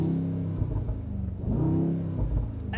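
A 2022 Brabus 800 Adventure XLP, an 800-horsepower Mercedes G 63 pickup in sport mode, revving up close with a deep rumbling engine that swells, eases and swells again, ending in a short rattle.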